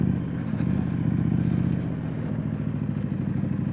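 A street scrambler motorcycle ridden off road gives a steady, close engine drone with a throbbing pulse, and faint clatter from the rough terrain rides on top.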